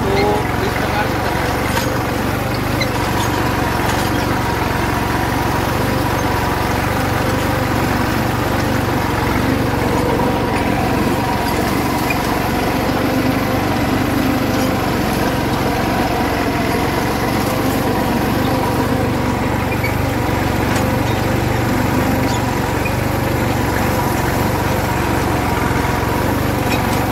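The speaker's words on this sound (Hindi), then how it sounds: "तो इस प्रकार से ट्रैक्टर चलता है" A tractor engine runs steadily while preparing a maize field for sowing moong, a continuous low droning rumble at slow RPM under a voice talking throughout.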